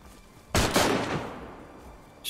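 A burst of rifle fire in DayZ cracks out loudly after a quiet start, several quick shots rolling into a fading echo, with another shot beginning right at the end.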